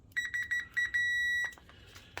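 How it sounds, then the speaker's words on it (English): A multimeter on continuity setting beeps in several short bursts, then holds as one steady tone for about a second before cutting off. "So if we have connection, it'll beep."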